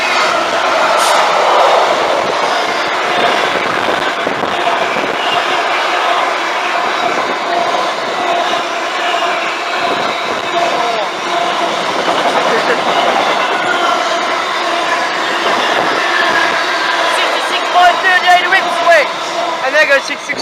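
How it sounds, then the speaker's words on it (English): A short Freightliner intermodal freight train hauled by a Class 66 diesel locomotive rumbles past at steady volume, with a continuous wheel-on-rail drone and faint clicking, while people talk over it. "It's a short intermodal train, hauled by 66"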